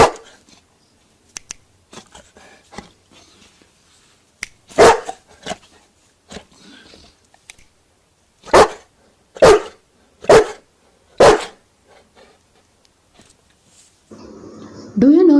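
Malakoff the dog barks repeatedly: a few scattered sharp barks early on, then a quick run of four loud, evenly spaced barks. Quieter rustling fills the gaps, and a voice comes in at the end.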